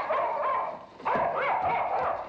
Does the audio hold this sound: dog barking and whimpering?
yes